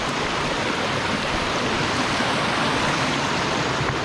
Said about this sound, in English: it's a pretty nice little stream area